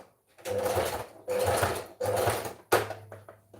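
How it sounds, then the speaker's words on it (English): A sewing machine stitches fabric in three sustained runs of about a second each, loud and close, with short pauses between and a final clunk of the mechanism near the end. "I'm gonna stitch right there."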